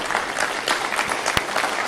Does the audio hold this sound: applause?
yes